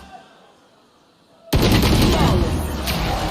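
Rifle gunshots in the video game Valorant break out suddenly after a quiet stretch, a loud, dense burst of rapid fire continuing to the end.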